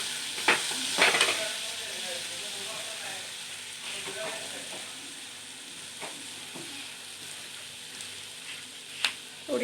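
Gavar (cluster bean) bhaji sizzles and steams in a pan while turmeric is stirred in, with a burst of spoon scraping near the start and scattered soft clinks later over a continuous hiss. The sound is close, fairly quiet and without talking.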